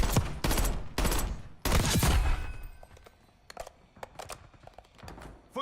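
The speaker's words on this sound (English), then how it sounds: "Snipers firing." Sniper fire in a military video game cracks out in several loud, close bursts early on, then fades to quieter scattered shots and clicks.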